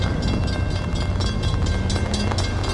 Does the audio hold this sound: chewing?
no